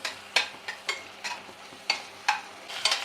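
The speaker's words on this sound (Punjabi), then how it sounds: "ਹੁਣ ਆਪਾਂ ਇਹਦਾ ਤੜਕਾ ਲਾਉਣੇ ਆਂਗੇ" Intermittent scraping and stirring as onions and corn are tempered in a hot pan, about a dozen short strokes with a faint sizzle between them, close by and without talk.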